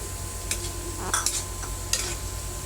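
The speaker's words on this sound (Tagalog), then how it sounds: "Kailangan po mabilis ang halo para po hindi magbuo-buo yung ating cornstarch" Cornstarch mixture being stirred quickly into chop suey in a pan, a few sharp scrapes and clinks of a utensil against the pan over a soft continuous sizzle.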